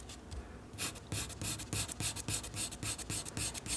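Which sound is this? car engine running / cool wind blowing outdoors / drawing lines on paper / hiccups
drawing lines on paper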